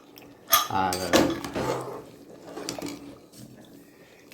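A metal lid clanks and rattles onto a pot of cooking mushroom biryani in a couple of close, ringing knocks, followed by quieter settling clinks and faint kitchen noise.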